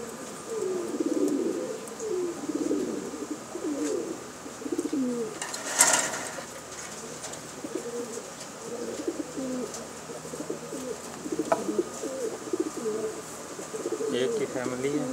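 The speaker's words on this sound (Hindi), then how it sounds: "लाल पतंग कबूतर है।" Red kite pigeons coo repeatedly in low, throaty phrases, with a brief rustle or flap partway through and faint background noise.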